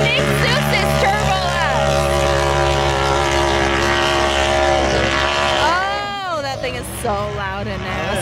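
A turbocharged side-by-side races up a snowy ski hill at a snow event, its engine droning loudly and revving in sweeping pitch changes, while a crowd cheers and talks over it.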